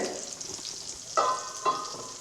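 A sardine curry simmers on a medium flame with a soft continuous bubbling sizzle, while a spoon scrapes around the pot in a couple of brief, slightly louder strokes.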